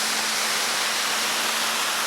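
Steady rushing, hissing water spray from a misting fountain in Pittsburgh, constant and fairly close, with a faint hum underneath and no voices.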